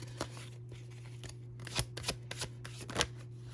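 A tarot card drawn from a deck, heard as a few quick papery shuffles and sharp card snaps over about three seconds, close and fairly quiet, with no talking.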